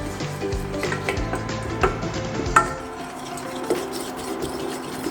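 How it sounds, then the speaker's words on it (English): A flour roux for mac and cheese being stirred in a pan, with quiet scraping and light clinks of the utensil against the pan over a faint sizzle. "I just continue stirring"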